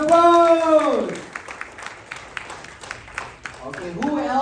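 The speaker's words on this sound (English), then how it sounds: "Let's give her a big round of applause" Applause from an audience at a leaders' training meeting, a thin scattering of claps between spoken voices at the start and end, moderately loud and loosely spaced rather than a dense roar.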